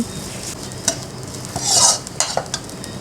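Spicy frog pieces are stir-fried in a hot pan with a loud close sizzle, punctuated by scraping and clinking strokes of the spatula and a brief hissing surge midway, without voices.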